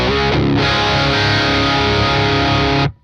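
Electric guitar played through the Neural DSP Archetype Plini amp plug-in with overdrive switched off gives a thick, warm, distorted sustained chord ringing loudly for almost three seconds, then cutting off abruptly into silence.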